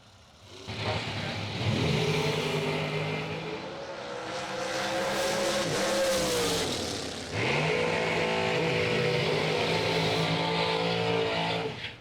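A drag racing car at a bracket racing event roars close and loud as the throttle is whacked, the engine note rising and falling over a sustained high-revving blare with a brief dip midway.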